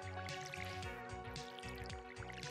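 In Stardew Valley, a watering can pours over crops with a soft dripping, trickling sound under prominent looping game music.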